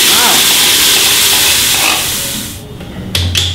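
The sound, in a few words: yogurt added to a frying pan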